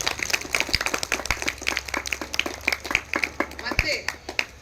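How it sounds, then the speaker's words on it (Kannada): A crowd at a school gathering claps for the school staff, sharp hand claps coming in a quick uneven patter at moderate distance, with talking mixed in. "ಅವರಿಗೆ ಎಲ್ರಿಗೂ ಒಂದು ದೊಡ್ಡ ಚಪ್ಪಾಳೆ ಕೊಡಬೇಕಾಗಿ ವಿಧಿಸ್ತೇವೆ"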